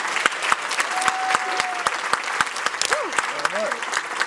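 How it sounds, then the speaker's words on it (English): Steady round of applause from an audience at a presentation event, dense clapping with sharp individual claps standing out, while voices talk over it. "Let's give you all a round of applause."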